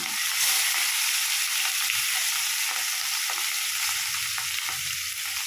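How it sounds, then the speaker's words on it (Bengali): Rohu fish pieces fry in hot oil with a steady, loud, dense sizzle that holds evenly throughout, with faint scraping from stirring underneath. "মাছগুলোকে আমি ভেজে নেব।"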